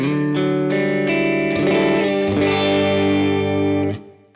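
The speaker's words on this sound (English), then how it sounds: "Moving on to plate reverb. Now this is just a plate reverb." Distorted guitar chords pass through the plate reverb of a Universal Audio Ox, several struck chords in sequence, with a reverb tail that fades out at the end.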